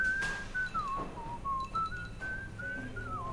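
Whistled melody from a character in the game Shadows Over Loathing, a clear wavering tune of several gliding notes over a low muffled background, close and moderately loud.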